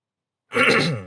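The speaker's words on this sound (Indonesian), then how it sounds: "sorry batuk" A single short, harsh cough bursts out after a moment of silence, close and fairly loud.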